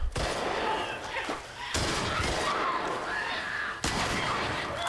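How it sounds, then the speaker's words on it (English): Heavy shotgun blasts in the video game The Last of Us Part I during a fight with infected, three loud booming shots spaced apart with a rumbling tail between them. "Reload the shotgun quick!"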